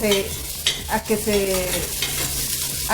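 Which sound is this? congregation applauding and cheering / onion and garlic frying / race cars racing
onion and garlic frying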